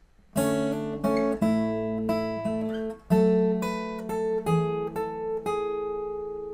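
An acoustic guitar riff from a song's intro played alone with a capo, bright plucked notes with ringing sustain, a few phrases repeating, close and clear.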